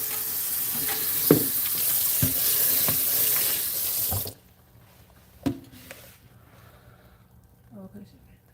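Makeup sponges are rinsed under a running sink tap, giving a steady close gush of water for about four seconds before it cuts off, followed by faint handling and squeezing sounds.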